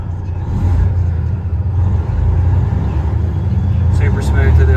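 A 2015 Freightliner Coronado triaxle glider daycab's diesel engine runs with a steady, loud low rumble that rises slightly as it revs, with a few brief higher whines near the end; a person talks over it.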